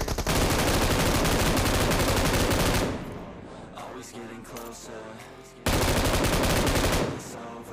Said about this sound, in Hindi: सबसे पहले तो प्री फायर देके इनको थोड़ा सा डराया ताकि ये लोग थोड़ा सा डरे।